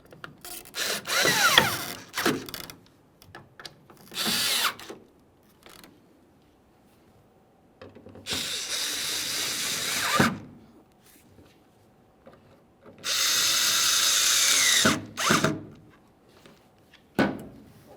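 A power drill snugs tail light screws on a 1998-2011 Ford Ranger, running in several bursts of whirring, some lasting about two seconds, separated by pauses and with short blips between them, close and fairly loud.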